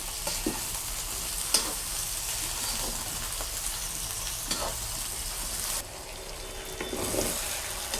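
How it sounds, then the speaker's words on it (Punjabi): Small bitter gourds (karela) fry in hot oil in a pan, a continuous dense sizzle with occasional stirring scrapes, close and steady throughout. "ਇਹ ਦੇਖੋ ਹਜੇ ਆਪਾਂ ਫਰਾਈ ਚੰਗੀ ਤਰ੍ਹਾਂ ਰੜੇ ਨਹੀਂ ਕਰੇਲੇ ਆਪਾਂ ਹਜੇ ਹੋਰ ਰਾੜਾਂਗੇ ਇਹਨਾਂ ਨੂੰ"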